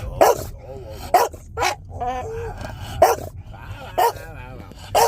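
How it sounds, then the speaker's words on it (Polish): A dog barks in sharp bursts about once a second, with whining and yelping between barks, close and loud. "Zaszczekaj trochę."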